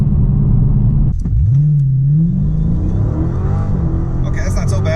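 A car with a 392 Hemi engine and a newly installed intake manifold accelerates hard with wheel spin, giving a loud, steady engine roar whose pitch sweeps upward and stays prominent for the whole stretch, with voices heard faintly under it.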